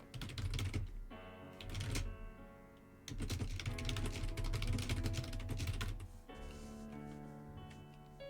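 Typing on a computer keyboard, quick bursts of close key clicks broken by short pauses, no voices.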